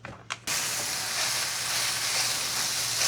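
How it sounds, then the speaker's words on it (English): A pound of bulk sausage browns in a skillet, a loud, steady hiss of sizzling fat that bursts in after a couple of quick knocks and stays even throughout. "In a skillet, we're going to go ahead and brown 1 pound of bulk sausage."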